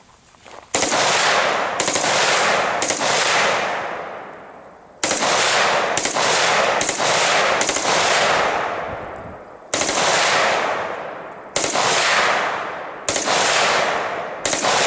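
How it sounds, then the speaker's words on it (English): A VZ-58 rifle fires a magazine dump in several long bursts of rapid automatic gunfire, loud and close, each burst ringing out with a decaying echo before the next; no talking. "I'm going to do a bursting, a mag, and then I'm going to do a"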